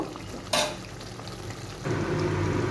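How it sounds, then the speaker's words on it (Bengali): Chicken is stir-fried in a pan over a high gas flame, giving a constant sizzle with a sharp scrape of the spatula near the start and a louder frying hiss toward the end. "গ্যাসের ফ্লেমটাকে এবারে আমি হাইতে করে এটাকে একটু ভালো করে কষিয়ে নেব"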